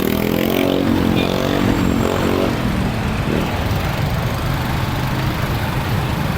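A small motorcycle carries a rider through the streets of Manila, its engine droning steadily and close throughout, with road and traffic noise mixed in and no talk.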